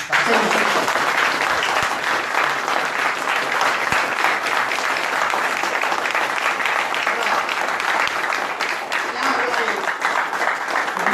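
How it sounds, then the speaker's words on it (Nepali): An audience at a motivational talk breaks into sustained, dense applause that holds at an even level for the whole stretch. "यो जीवन्त भएको तपाईँलाई लाग्छ भने ताली ठोक्नुहोस्"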